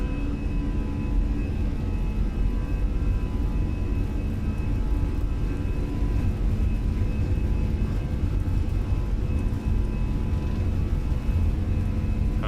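Airbus A320 engines spooling at takeoff power in a flight simulator, a steady loud roar with low rumble and sustained tonal whine that holds throughout.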